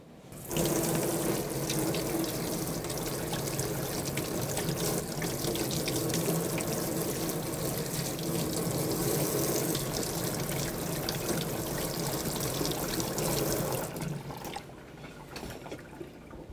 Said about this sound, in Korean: 더덕은 흙이 묻어져 있는 채로 나오기 때문에 깨끗하게 씻어 준비하도록 하겠습니다.